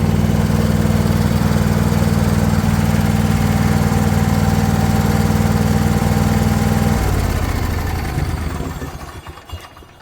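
A John Deere lawn tractor engine runs loudly and steadily with a droning mid-low hum, then winds down near the end as it shuts off and fades out.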